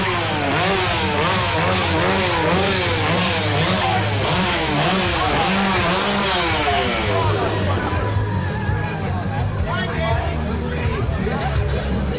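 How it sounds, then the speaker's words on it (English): At a hardcore Halloween wrestling show, a chainsaw revs loudly in rapid repeated surges over crowd babble and commentators talking, easing slightly toward the end. "You ever been chased around with a chainsaw, Nikki?"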